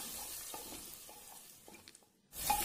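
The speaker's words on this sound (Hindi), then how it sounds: "गैस की आंच को धीमा रख के इसे लगातार चलाते हुए भूनें।" Chopped garlic, onion and ginger fry gently over a low flame while being stirred, giving a soft, faint crackle with light scraping, then a sudden louder rush of sizzle at the very end.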